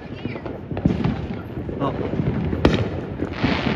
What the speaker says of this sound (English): Holy frick, look at all these fireworks.